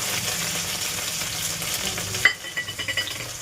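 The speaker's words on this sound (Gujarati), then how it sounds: "મેથી બધું તેલમાં જ એડ કરી દેશું" Dried fenugreek leaves (kasuri methi) dropped into hot oil with lemon, ginger, chilli and garlic paste, giving a steady loud sizzle that breaks into a few short crackling bursts near the end.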